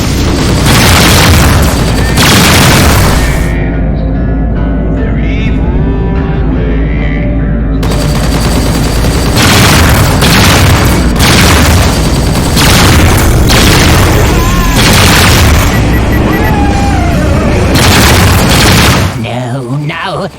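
Loud, heavy booms from missile explosions in the space-combat game Rebel Galaxy Outlaw, interleaved with rapid machine-gun-like fire, with a couple of dropouts and a voice speaking amid the chaos.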